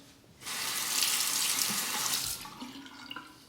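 A straight razor rinsed under a running tap during a shave: water gushes steadily for about two seconds, close and clear, then trickles off with a few small splashes.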